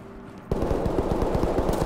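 Rapid bursts of nearby gunfire in the tactical shooter Ready Or Not, starting abruptly after a quiet half-second and continuing as a dense, loud automatic volley with no talking.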